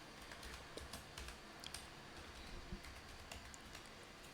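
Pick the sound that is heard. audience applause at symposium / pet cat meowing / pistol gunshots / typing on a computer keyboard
typing on a computer keyboard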